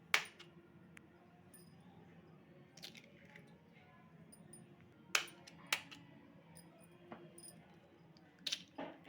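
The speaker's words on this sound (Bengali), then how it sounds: "এবারে আমি কিন্তু ডিমগুলো ফাটিয়ে নেব" Eggs cracked one after another in a home kitchen, giving several sharp taps and clinks against a bowl or edge, scattered irregularly and close by over a quiet background.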